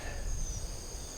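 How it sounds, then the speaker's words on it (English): A steady, faint high-pitched buzzing hum drones on throughout, like insects or bees nearby, with a soft low rumble underneath and no voices. "I hear a humming and a buzzy."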